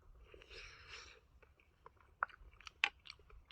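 Someone chews a rice and pasta dish with freshly picked wood ear mushrooms, soft close mouth sounds building to a few sharp crunchy bites, quiet overall with no talk.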